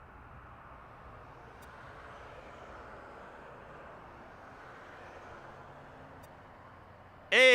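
A United Boeing 737 airliner on the runway at Las Vegas gives a steady, distant jet-engine rumble that holds at moderate level throughout, with a sudden loud burst right at the end and no talking.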